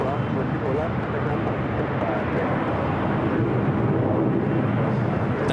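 A Delta Airlines Boeing 767-300ER arriving at LAX gives a steady, loud, broadband jet roar that fills the whole stretch without break, with someone talking over it.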